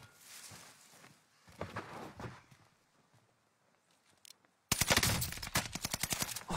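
Video game gunfire, scattered shots and footsteps at first, then a loud, rapid automatic burst near the end.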